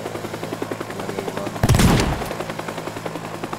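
Enemy firing rockets in the Teardown video game, one loud blast with a rushing roar cutting through a steady rattling mechanical drone of gunfire.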